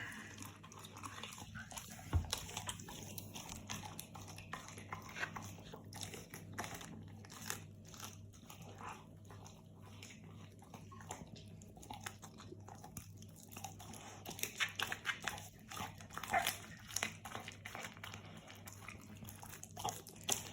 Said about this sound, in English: as long as your dog is breaking them up and chewing on them, they're absolutely fine